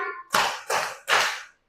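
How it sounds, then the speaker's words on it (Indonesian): Three sharp, evenly spaced hand claps ring out close and loud, keeping time with a children's clapping song sung in a classroom, with no voices heard between the claps. "Kalau kau suka hati, tepuk tangan."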